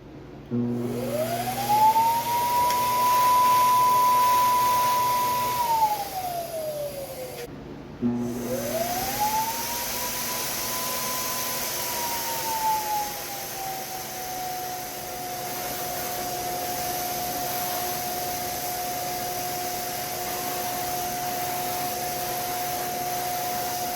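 A paint spray gun with a screw-on cup runs loudly, a motor whine rising in pitch to a steady drone. It cuts off briefly, restarts, and holds a sustained spraying hum.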